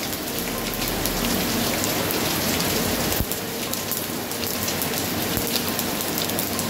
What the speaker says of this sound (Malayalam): ഭയങ്കര മഴയാണ്, അതിൻ്റെ ശബ്ദമാണ് കേൾക്കണേ.